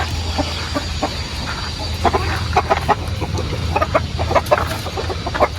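A hen clucks in short, repeated bursts close by, the soft calls scattered irregularly over a quiet farmyard background.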